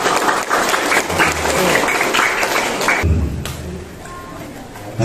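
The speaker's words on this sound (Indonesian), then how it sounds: "Mari kita tepuk tangan untuk pengurus Soksi." An audience at a charity gathering for orphans in Banten Lama applauds the Soksi board, loud massed clapping that holds for about three seconds, then thins to a quieter scattered patter with a voice underneath.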